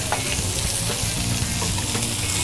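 King prawns cook over high heat on a barbecue, producing a loud, dense, steady sizzle close up with faint crackles and occasional light stirring, and no speech.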